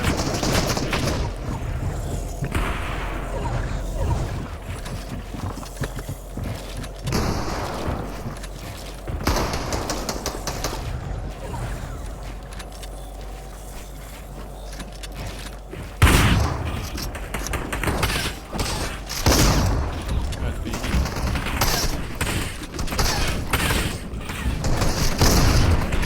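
Gunfire in the video game Fortnite: bursts of rapid shots and booms come in clusters separated by quieter stretches with mechanical clicks, moderately loud throughout.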